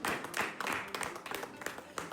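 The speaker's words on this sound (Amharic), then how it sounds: "ሁለተኛ ጭብጨባ ያስፈልገው።" Uneven bursts of hand clapping from a few people at a home celebration, close and fairly loud, rising and falling in short irregular rounds.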